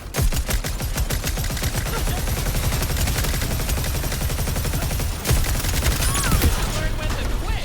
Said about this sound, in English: That minigun is OP.